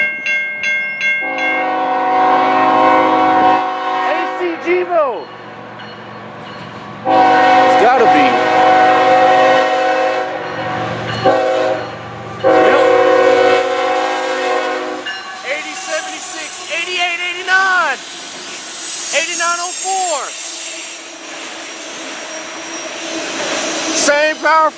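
A Norfolk Southern freight train led by a GE Evolution locomotive rumbles past loudly, its horn sounding in several long blasts over the heavy engine roar and rolling wagons, with a voice talking at times.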